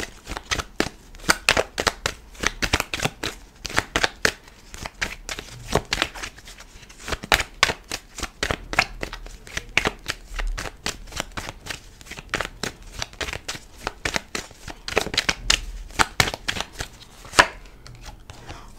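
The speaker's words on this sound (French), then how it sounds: "Je vais regarder avec une carte de l'oracle du miroir quelques précisions là-dessus." Oracle cards being shuffled by hand during a tarot-style reading, a close, rapid run of crisp slapping riffles and flutters in quick bursts with brief pauses, no talking over it.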